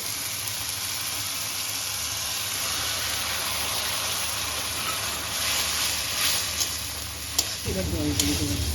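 Spinach and prawns fry in a pan, producing a continuous broad sizzle and hiss with occasional stirring scrapes, and a low voice comes in near the end.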